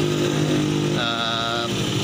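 A Honda Vario Techno 125 carbureted scooter engine runs steadily at close range, a continuous buzzing drone whose pitch shifts partway through, with no talk over it.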